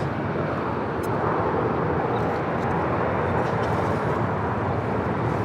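A plane arriving at LAX from Anchorage makes a steady broadband jet roar that holds constant and fairly loud, with no talk.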